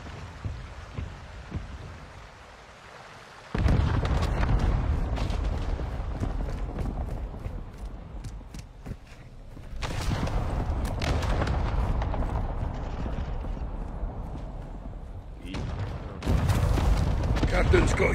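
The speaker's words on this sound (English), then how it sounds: "Hostile mortar strike incoming." In a multiplayer shooter video game, a mortar strike lands as heavy booming explosions that roll in and sustain in long low rumbling bursts, with scattered gunfire crackling between them and a faint voice now and then.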